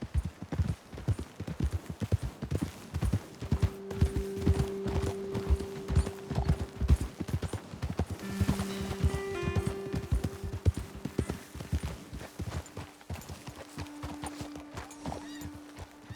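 Horses ridden at a walk in the Red Dead Redemption 2 game, hooves clip-clopping steadily and close by throughout, with occasional snorts and a low musical drone underneath.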